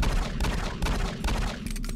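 Gunfire in the video game Doom 3: loud, dense, continuous shooting with rapid overlapping shots and a heavy low boom, all at close range.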